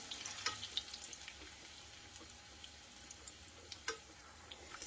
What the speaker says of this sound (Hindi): यहाँ पे ये आलू हमारे इस तरह से फ्राई हो रहे हैं